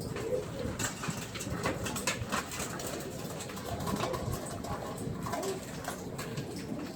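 Pigeons coo softly while being fed, low burbling calls repeating amid steady flutters and shuffling of a flock nearby, continuous and fairly quiet.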